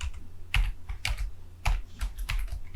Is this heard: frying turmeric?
no